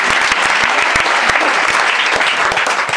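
A congregation at a Christian worship gathering applauds loudly and steadily, with dense, continuous clapping and no pause throughout.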